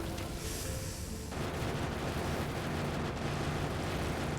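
A tank shell explodes in a video game: a heavy, sustained rumbling blast that roars on for several seconds, loud and dense, with no speech.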